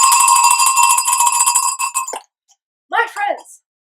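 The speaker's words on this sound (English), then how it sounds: "we ring our bells in joy for the light that bursts forth from an empty tomb" Bells ring in joy on Easter Sunday, loud bright metallic tones that sustain for about two seconds and then stop abruptly, followed by a brief voice.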